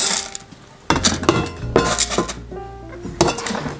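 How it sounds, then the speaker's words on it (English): Coarse pumice grit pours and rattles into the bottom of a bonsai pot in several clattering bursts, each a close, bright rush of small stones against the container. "the next step is actually to add some coarse aggregate or coarse pumice on the bottom of your pot"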